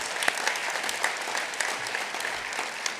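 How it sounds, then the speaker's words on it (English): A hall audience at a Hall of Fame induction ceremony gives a steady round of applause, dense clapping from many hands held at an even level throughout, with no voices over it. "Let's give ITC and all of you who've contributed to that a great big round of applause."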